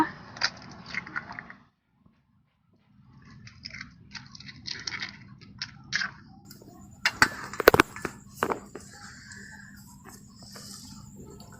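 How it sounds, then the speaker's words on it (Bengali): Hands mix chicken pakora ingredients in a bowl, giving close, wet squishing and a few sharp cracking clicks as an egg is broken in, with a short silent gap near the start. "এবার আমি ঢাকাটা খুলে সমস্ত উপকরণ মাখিয়ে নেব একটা ডিম ফাটিয়ে দিয়ে দেব"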